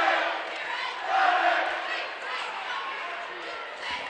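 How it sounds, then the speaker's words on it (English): Boisterous student section cheering at a high school basketball game, a steady roar of many voices from the stands off to one side, swelling briefly early on, with an announcer talking over it. "Pretty boisterous cheering section for South students down here to our left."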